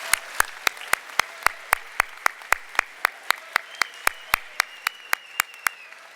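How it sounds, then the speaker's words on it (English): Audience applause for young public speakers at an evening event, heard as a sparse, evenly spaced run of crisp single claps at a quick, regular tempo, fairly quiet and alone. "I think we should also give an applause for the great work these young men did this evening"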